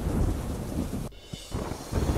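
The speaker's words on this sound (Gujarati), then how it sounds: "બોટાદમાં ધોધમાર વરસાદ વરસ્યો." Heavy downpour over Botad roars steadily with deep rumbling thunder, then briefly drops away before the dense rain noise returns at full strength.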